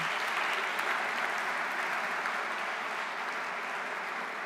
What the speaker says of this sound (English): give Fiona another round of applause